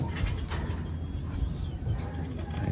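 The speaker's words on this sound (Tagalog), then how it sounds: "Ayun yung mga kalapati natin" Soft, low cooing of pigeons repeats faintly against a steady background hum, with no voices, during pigeon training in Concepcion, Tarlac.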